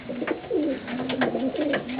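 Domestic pigeons kept as breeding stock coo close by in a loft, a steady run of low, throaty, repeated coos overlapping one another for the whole stretch, with no talking.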